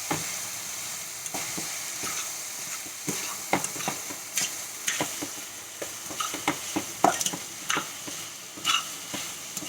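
Beef sautéing in a pan with garlic and mirepoix, a steady close sizzle broken by frequent scraping and clinking stir strokes at an irregular rhythm throughout.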